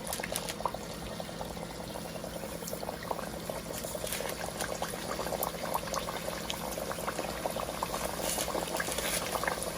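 Dough bakes frying in a hot pot of oil, a steady dense bubbling and crackle that holds at an even, close level throughout with no voices.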